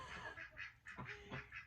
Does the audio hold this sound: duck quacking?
yes